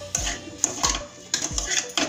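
Chunks of pumpkin dropping into a pan of cooked spices, giving several sharp clattering thuds with a spoon or spatula knocking against the metal in an irregular rhythm, close and fairly loud.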